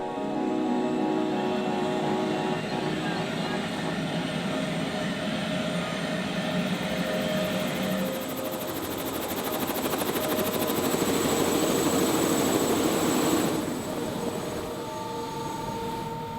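Steady, loud helicopter rotor and engine drone, continuous throughout, heard from close by inside the helicopter in New Zealand, with a shifting whine and no talking.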